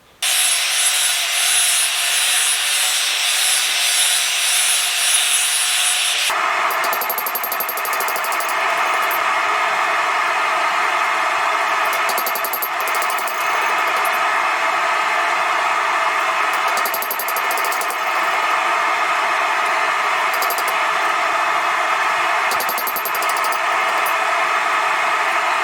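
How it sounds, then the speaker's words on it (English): A flap disc on an angle grinder works the edges of hand-forged hooks, a loud, continuous abrasive grinding whine that changes pitch as pressure on the workpiece shifts. "I did not round the edge that I rounded enough, so I'm gonna have to bring a flap disc back over here."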